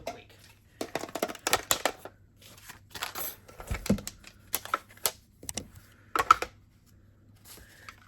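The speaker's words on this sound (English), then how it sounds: "let me grab my little mini machine and we can cut that out super quick" A small mini die-cutting machine cranks a paper banner through, giving a run of close, fairly loud clicking and rattling bursts over about eight seconds, with short quiet gaps between them.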